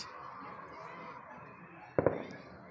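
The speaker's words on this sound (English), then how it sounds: "Somebody just set off some fireworks." A couple of sharp pops from fireworks crack out in quick succession in the distance over a quiet, steady background hum, during a solar eclipse in Forest, Ohio.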